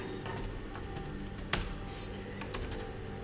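Java code being typed on a computer keyboard: a steady run of light key clicks, with one sharper, louder stroke partway through, close and clear with no talking.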